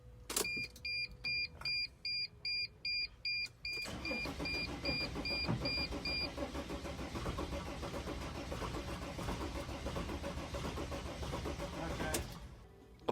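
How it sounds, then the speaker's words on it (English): A 2006 Mercedes T1N Sprinter diesel van cranks after fresh injectors are installed. Dashboard chimes beep rhythmically first, then the starter grinds steadily for about eight seconds, loud and close, before it cuts off. "Now let's put some injectors in and try to start it."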